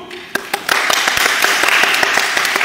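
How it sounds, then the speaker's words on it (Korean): Applause at a badminton all-star match introduction, a few separate claps swelling quickly into dense, loud clapping from a gathered crowd, with some voices mixed in. "자, 박수."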